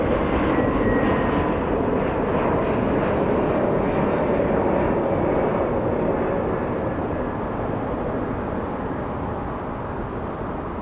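A United Airlines jet, flight 212 bound for Chicago, takes off at Los Angeles International Airport, its engines a loud, broad continuous roar that holds steady before gradually easing as it moves off.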